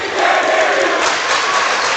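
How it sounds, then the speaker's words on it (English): Loud student-section crowd of South Oldham roaring steadily through a high school basketball game, a dense, continuous wall of cheering and shouting across the whole stretch. "The loud South Oldham crowd, the student section on the opposite side"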